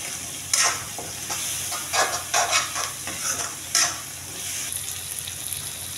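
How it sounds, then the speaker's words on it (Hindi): Aloe vera curry sizzles and fries in a pan as ginger-garlic paste is stirred in, with a steady hiss broken by scraping stirs and small spattering bursts, close and moderately loud. "और फिर मैं इसमें डालती हूँ अदरक और लहसुन का पेस्ट और ये डाल के अच्छे से मिक्स कर देती हूँ"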